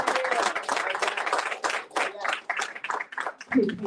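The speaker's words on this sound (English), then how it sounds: "Round of applause." A crowd applauds at a community gathering, uneven bursts of clapping that thin out toward the end, with a voice speaking over part of it.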